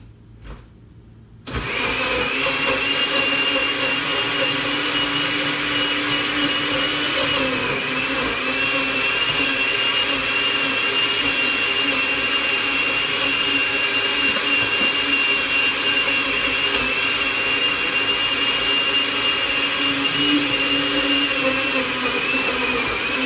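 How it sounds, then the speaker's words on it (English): A blender grinding raw pork switches on after a brief quiet moment and then runs continuously at a loud, steady whine, with a grinding motor hum throughout. "I'm just going to put this in the blender."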